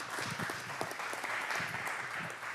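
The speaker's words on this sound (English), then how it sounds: "another round of applause to welcome this new leadership team that you all have" Audience applause welcoming a new leadership team at a community meeting: continuous, moderately loud clapping from a roomful of people, steady from start to finish.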